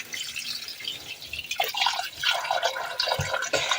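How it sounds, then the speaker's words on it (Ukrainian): Cold water pours over pork meat in a container for soaking, a close, splashy stream of trickles and drips that grows fuller and more gurgling partway through, with no voices. "далі м'ясо необхідно залити холодною водою повністю, щоб воно було все-все-все покрито свіжою холодною водичкою."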